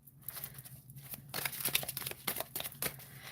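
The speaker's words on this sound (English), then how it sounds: "Let's see how it shuffles overhand." A tarot deck with thick, oracle-like cardstock is shuffled overhand in the hands, giving a run of soft papery slaps and riffles that grows busier and louder toward the end, heard alone and close.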